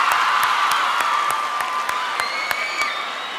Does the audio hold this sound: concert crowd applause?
yes